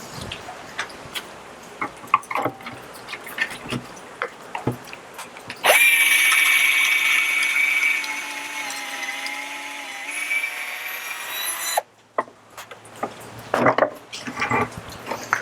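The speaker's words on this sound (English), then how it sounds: "we have finished drilling all the pocket holes on the end of the boards" A power drill whines steadily for several seconds as it bores pocket holes into the ends of wood boards, between clattering taps and handling noises nearby.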